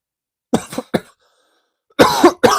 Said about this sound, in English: Still trying to get over this cough.